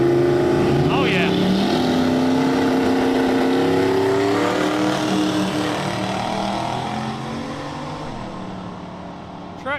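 Engines of a race car and a truck, one a little Nova, rev and rumble continuously at a drag strip, loud and close, with voices talking over the steady growl.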